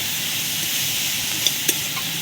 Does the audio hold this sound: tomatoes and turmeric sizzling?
yes